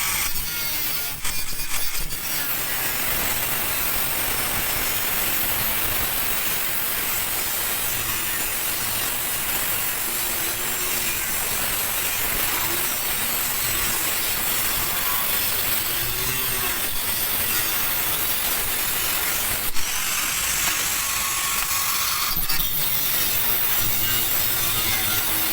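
A power cutter slices through thin metal sheet for a single-leaf welded gate, giving a continuous harsh, hissing grind that holds steady for the whole stretch, with a few brief shifts in tone and no voices.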